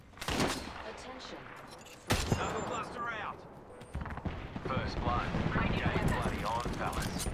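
Gunfire in the Apex Legends battle royale game, scattered loud shots and bursts mixed with explosive impacts, heard under and between voiced game callouts.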